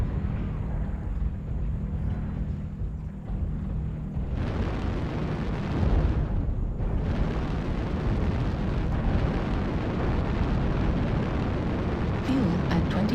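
Airstrike explosions in a video game roar as a dense, continuous rumble of booms and blasts, loud and sustained throughout with a brief surge partway through; no talk.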